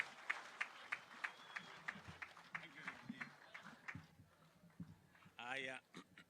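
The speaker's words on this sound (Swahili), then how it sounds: "Kwa makofi" A crowd welcomes President William Ruto at the launch of Taifa Gas with faint, rhythmic clapping, a spaced series of claps heard under speech.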